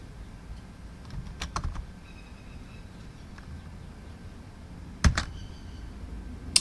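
Sparse keystrokes on a computer keyboard entering a number, a few quiet clicks with a sharper pair of taps near the end over a faint room hum.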